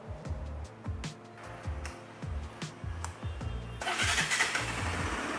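A freshly assembled Pulsar 200 NS motorcycle engine cranks in a series of rhythmic low thumps, then catches and settles into a louder, steadier running note near the end, close by with no talk.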